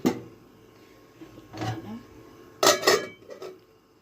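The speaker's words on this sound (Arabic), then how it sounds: "غسلت المواعين اللي ورايا" Dishes, pots and pans are washed in a kitchen while a breakfast is cooked, giving a few separate clattering knocks and clinks of metal and crockery close by, with quiet gaps between them.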